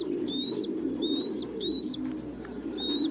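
Pigeons coo low and steadily in an industrial pigeon farm, where a chick hatched that morning. Several high, repeated peeps rise above the soft continuous cooing.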